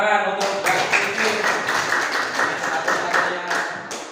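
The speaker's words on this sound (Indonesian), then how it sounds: "Tepuk tangan untuk Mbak Cici." Audience applause for a teacher named Cici in an Indonesian classroom lesson, a steady spread of many clapping hands sustained for several seconds at moderate loudness.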